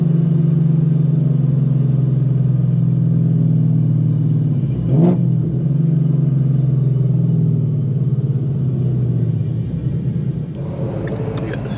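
A modded S550 Mustang GT rolls along a rough road with a loud, steady low engine rumble from inside the cabin, a brief swell and knock partway through, then the tone eases slightly near the end.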